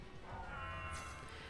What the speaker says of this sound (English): Baxcalibur kind of sounds like a cat.